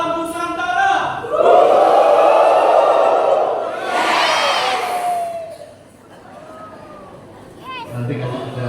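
A church congregation at a Christ the King feast-day service shouts loudly together, a sustained roaring mass of voices that swells, fades, then rises again, with a speaker's voice heard among the crowd.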